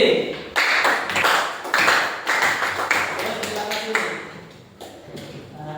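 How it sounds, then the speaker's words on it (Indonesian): Students in an Islamic religious education class at a university in Malang clap for a student group, giving uneven bursts of applause with voices talking over and between the claps. "Berikan tepuk tangan untuk kelompok C."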